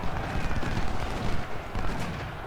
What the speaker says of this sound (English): There is their artillery.